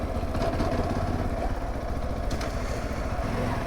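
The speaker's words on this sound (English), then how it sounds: "The engine feels very peppy, it's stable, like here, no hands at 15." A SYM NH-T 200 motorcycle engine hums steadily and fairly loudly while the bike cruises along, with a dense, even drone and no voices.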